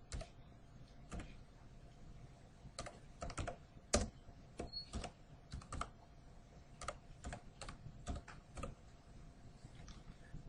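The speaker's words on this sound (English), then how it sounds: "So you'd want to type in Butler Buildings." Someone types on a computer keyboard in irregular bursts of quick, close key clicks separated by short pauses, with a faint steady hum underneath and no talking.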